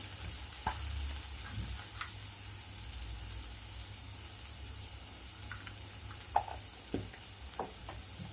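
Ginger paste frying in a pan as a pinch of turmeric is stirred in, a soft steady sizzle with occasional faint clicks of the spoon.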